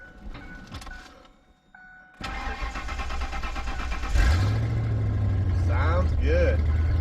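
A Mercury Mountaineer SUV engine cranks and catches, then settles into a steady, loud idle with a low rumble, preceded by clicks and brief talking nearby, with voices continuing over the running engine.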